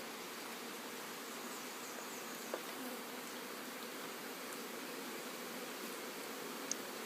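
Honey bees from a package being installed into a hive, a steady soft buzzing drone with no talk.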